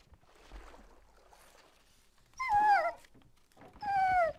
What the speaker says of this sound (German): Unsere Hundestaffel noch mal ein bisschen verstärkt.